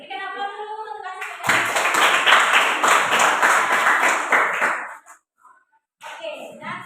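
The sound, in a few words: applause for a student group in class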